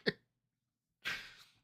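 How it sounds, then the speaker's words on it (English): Two short, dry coughs a second apart, the second slightly longer and raspier, close and quiet. "He's coughing."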